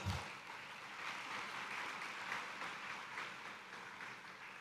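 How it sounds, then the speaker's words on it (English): Soft, distant applause rolls evenly through the hall at an IIT Madras Electrical Engineering convocation ceremony, a quiet sustained patter without a clear break. "Please give a bigger round of applause."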